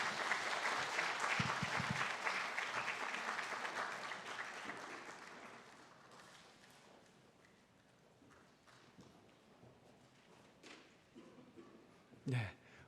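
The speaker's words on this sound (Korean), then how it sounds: "우리 큰 박수로 함께 축하해 주시고 격려해 주시기 바랍니다." A church congregation at a Sunday service applauds after an infant baptism, a dense round of clapping that swells early, then fades gradually into a quieter room with a brief thump near the end.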